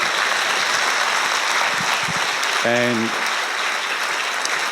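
An audience at a university thesis competition grand final gives a round of applause, steady, dense clapping throughout with a brief voice and whistle-like tone partway through.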